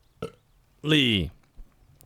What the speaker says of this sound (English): Minus the burp there, excuse me.